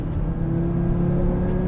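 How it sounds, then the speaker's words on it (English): 2018 Audi RS3 with a turbocharged five-cylinder engine accelerating hard, a steady, loud, sustained engine drone with no voices over it. "it takes a good 3 seconds for the turbo to spool up"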